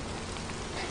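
Heavy rain pours down in a steady, dense hiss of drops striking surfaces, continuous and loud with no voices.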